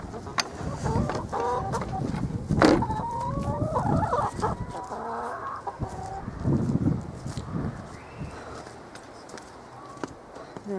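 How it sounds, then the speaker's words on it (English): Chickens cluck steadily inside a chicken shed, with a rooster crowing partway through; the birds are close and fairly loud, with wind noise in the background on a blustery day. "Now this is the chicken shed."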